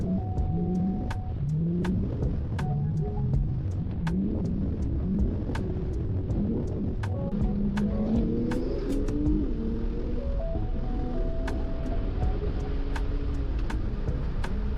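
An Infiniti G37 laps a race track, its engine note climbing and falling repeatedly as it accelerates, shifts and brakes through corners, heard close and steady with occasional small clicks and no talking.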